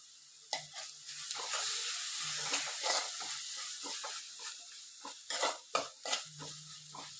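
Ginger, garlic, green chilli and shallot paste sizzling in a pan for a chicken curry, with a steady frying hiss and repeated scraping stirs and clinks of the spatula against the pan.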